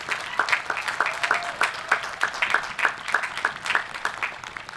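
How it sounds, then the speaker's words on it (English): Graduation audience applauding, a sparse crowd giving distinct, fairly close individual claps in a loose, uneven rhythm rather than a dense roar. "Can we please give them a huge round of applause for their hard work the past couple of years?"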